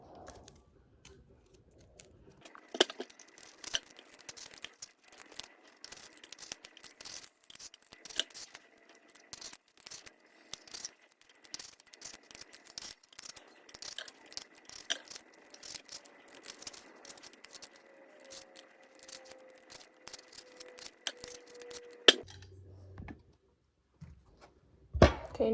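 A Fuji apple is peeled and then grated, producing a long run of dense, fine scraping and crisp snipping textures that are close but fairly quiet, with no speech.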